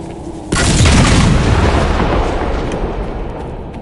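A Qunari explosive detonates in Dragon Age in a sudden loud boom, followed by a deep rumbling roar that slowly fades over several seconds.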